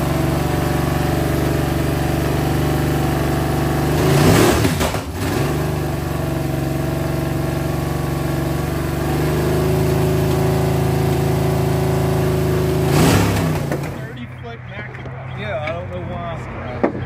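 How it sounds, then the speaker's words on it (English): A Ford FE V8 engine installed in a Galaxie runs steadily at idle, a loud continuous rumble with slight revving swells, before cutting off near the end to leave quiet background noise. "do a video of the engine running in the car"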